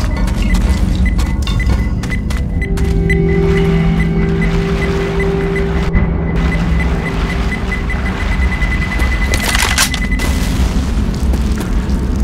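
A pipe bomb grenade blows up in the zombie shooter Left 4 Dead 2, a loud, sustained booming roar that fills the whole stretch, with a beeping tone and rumbling game noise running under it.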